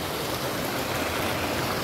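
Water flows steadily in a continuous broadband rush, like a stream running nearby at a trout fish farm, with no voices.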